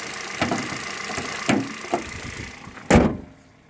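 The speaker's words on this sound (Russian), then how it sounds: "Сейчас я попробую закрыть капот." A Hyundai Solaris hood is lowered and shut over a running engine with ticking injectors: a few light knocks, then one loud, close slam near the end, with a steady idle hum underneath.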